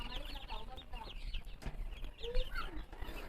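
Backyard breeder chickens, including naked neck, black and Polish hens, clucking and chirping in a farmyard, several birds calling at moderate distance with soft background noise.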